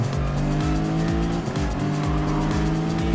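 Race cars roaring past one another in a PlayStation racing game, loud overlapping engine whines rising and falling in pitch as they overtake, with tire squeal in the mix.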